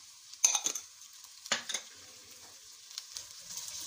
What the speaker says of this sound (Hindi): अब इनको हम फ्राई करेंगे तकरीबन 2 मिनट के लिए